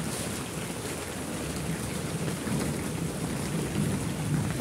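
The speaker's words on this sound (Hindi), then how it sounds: "दोबारा बारिश आने लग गई" Heavy rain pours down steadily outdoors, a dense, loud hiss of drops that continues unbroken throughout.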